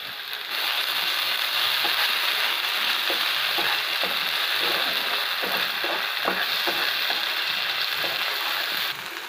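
Ginger garlic paste sizzles in a frying pan for an Andhra-style ridge gourd and chana dal curry, a dense hiss broken by sharp crackles and pops, close and loud with no talk.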